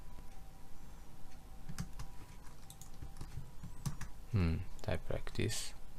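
Rapid close clicking of computer keyboard keys in uneven bursts, with someone talking over the typing.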